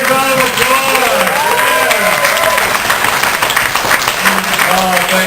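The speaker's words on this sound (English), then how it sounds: "Everyone give her a big round of applause." An audience at a comedy magic show breaks into sustained applause, a dense wash of clapping with a voice talking over it throughout.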